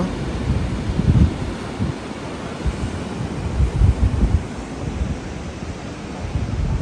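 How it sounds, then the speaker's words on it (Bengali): Steady roar of sea waves washing in at Mandarmani, heard from a beach cottage, with low surges rising and falling every few seconds, mixed with wind noise on the microphone. "এখান থেকে সমুদ্রের আওয়াজ তোমরা শুনতেই পাচ্ছ।"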